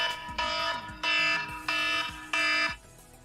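A device ringer sounds loudly four times in a row, each burst a bright, harmonic electronic tone lasting about half a second with short gaps between, close and alone.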